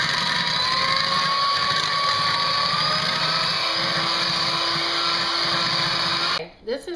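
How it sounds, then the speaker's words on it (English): An old 1950s–60s General Electric electric beater whirs steadily while mixing egg wash, a continuous high motor whine with a slowly shifting pitch that runs for several seconds, then cuts off abruptly near the end. "I'm using my mother's old General Electric beater from probably the 1950s or 60s"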